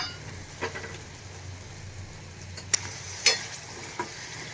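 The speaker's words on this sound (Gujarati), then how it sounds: "થોડી આપણી પેસ્ટ બે મિનિટ માટે સંતળાય પછી આપણે એમાં કેરીના ટુકડા એડ કરી દેશું બધું બરાબર મિક્સ કરી લઈએ" Spice paste and raw mango pieces sautéing in a pan for a Gujarati curry, a soft steady sizzle with a few sharp scrapes and taps of stirring, quiet and close.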